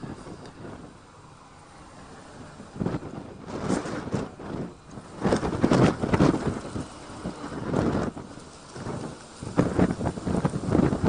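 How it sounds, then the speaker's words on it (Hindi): Strong wind gusts of a dust storm in Delhi roar and rumble in uneven surges, rising and falling loudly over several seconds with no voices. "इस तरीके का मौसम अभी बाहर बना हुआ है जहां पर तेज हवाएं चल रही हैं।"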